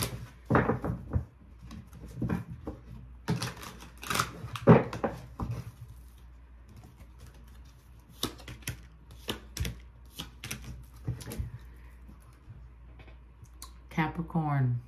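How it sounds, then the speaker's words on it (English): Tarot cards are pulled and handled, producing scattered crisp clicks, taps and shuffling snaps, some in quick clusters, under a soft speaking voice. "Let me pull three more cards."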